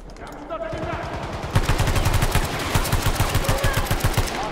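Rapid bursts of VHX gunfire tap-fired in a video game, a steady loud rhythm of closely spaced shots that runs on for several seconds with no talk over it.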